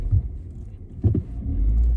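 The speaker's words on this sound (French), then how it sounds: "Désolée pour le bruit de la voiture et tout." A car's engine rumbles low while it is being parked, with a brief bump of mechanical noise midway and the hum steadying toward the end.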